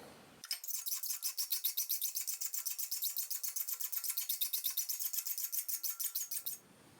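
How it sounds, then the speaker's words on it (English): A file strokes a single bevel onto a saw-blade broadhead for an arrow, a steady rhythmic rasp of about forty quick, even scraping passes, close and bright, with no talk. "we're just going to move right into establishing the single bevel"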